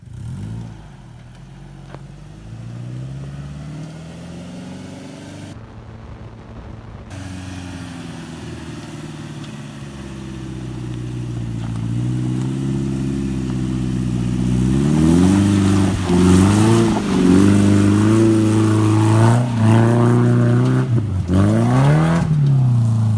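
The engine of a 2000 Toyota Tacoma labours off-road in low first gear, a loud droning growl that rises and falls in pitch as it climbs and revs, heard close with no speech.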